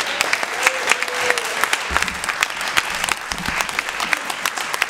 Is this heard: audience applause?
yes